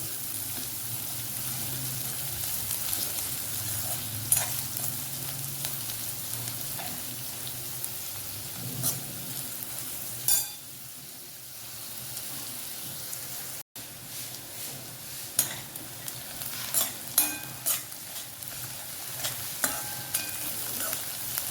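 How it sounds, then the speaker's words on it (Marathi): Chopped onions sizzle steadily in a pan while being sautéed until reddish brown, with occasional clinks and scrapes of a stirring spoon over the constant frying hiss. "कांदा चांगला परतून घ्यायचा आता लाल लालसर होईपर्यंत परतून घ्यायचं आहे"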